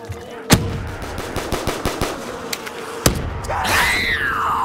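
Gunfire from a pistol-type weapon in Black Ops 3 custom Zombies: a rapid run of sharp shots with a louder crack near the end, followed by a rising and falling whooshing game effect.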